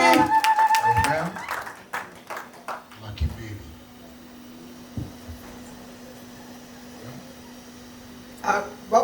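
Scattered hand clapping at a church launch party's cake auction: bursts of claps near the start and again at the end, mixed with room voices and a low steady hum.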